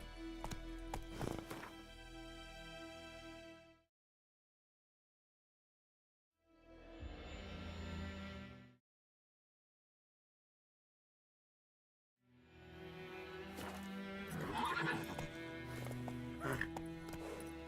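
Horse hooves clop in bursts separated by silences, with a horse snorting and whinnying, and a voice briefly audible.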